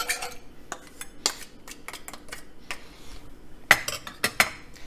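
A spoon scrapes and clinks inside a pot as roux is stirred into beef stew, giving irregular close metallic knocks and scrapes with a few louder clanks near the end and no talking.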